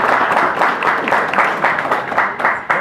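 An audience at a Union County public gathering breaks into applause, a dense burst of many hands clapping at close range that fades slightly toward the end.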